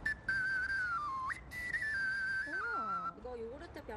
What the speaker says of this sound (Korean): 이거 요구르트 병은 두 번째로 높은 소리가 나거든요